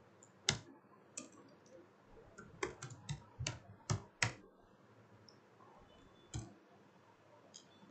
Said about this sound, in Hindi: हम टाइपिंग करेंगे फर्स्ट नेम